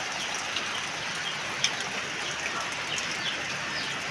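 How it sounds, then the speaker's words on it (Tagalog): Steady rain drums on a roof beside a banana plot during stormy weather, a dense unbroken hiss with a few sharper drop impacts, alone with no voices. "Sipag talaga ng ulan."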